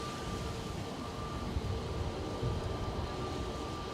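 A 24-year-old Boeing 737-800 airliner approaches at Manchester Airport as a low, steady, distant jet roar that swells slightly, with a faint sustained whine above it.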